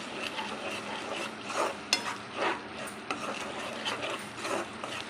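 Spices with chilli powder and salt fry in a pan for rajma kidney bean curry while a spoon stirs them, producing close scraping strokes and light knocks over a steady sizzle.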